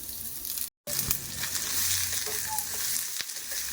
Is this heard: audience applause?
no